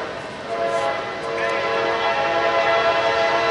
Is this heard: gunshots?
no